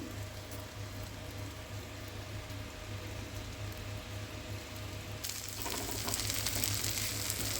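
Raw prawns fry in a pan with steady bubbling sizzle, close and even, then the crackle brightens and grows louder for the last couple of seconds.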